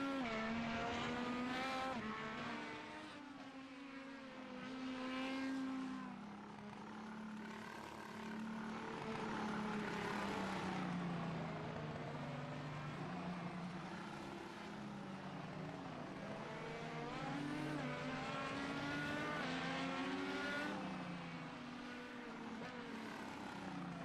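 An IndyCar-style race car on an oval qualifying lap, struggling for grip through turn 2, its engine note screaming continuously and rising and falling as it sweeps past and away. The car sounds fairly distant and stays alone, with no talk over it.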